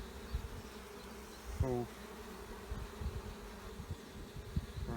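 Honey bees buzz steadily around an opened hive during a spring inspection, a low, continuous drone close by, with a brief louder pass from one bee and occasional handling bumps.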